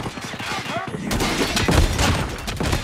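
An automated sentry gun in a video game lets off a rapid burst of gunfire that swells midway and keeps rattling, mixed with a radio-style voice calling out in the foreground.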